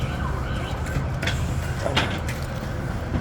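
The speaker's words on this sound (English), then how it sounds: "Uh-oh. There's sirens." A distant emergency siren wails faintly over loud traffic rumble and street noise on a New York street.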